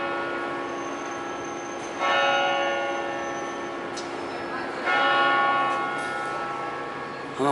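Church bells chime outdoors in central London, a steady ringing tone with a second strike joining around two seconds and again near five seconds, heard under low city background noise.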